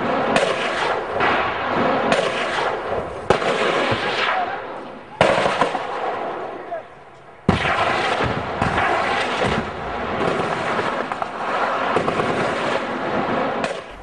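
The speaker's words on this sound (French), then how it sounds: "une troupe qui tire sur le Hummer et qui blesse les soldats" Gunfire from troops attacking a Hummer and wounding soldiers in a film scene, heard as dense, rapid bursts and sharp cracks over a noisy, continuous battle din, with loud impacts around the three, five and seven second marks.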